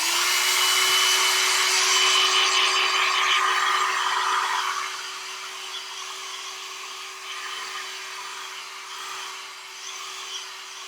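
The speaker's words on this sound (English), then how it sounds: "if you have your blow dryer handy, we're going to dry this a little bit right now" A blow dryer runs close and loud to dry paint on a poppy painting, a steady rushing whoosh that softens partway through and keeps going with a faint hum.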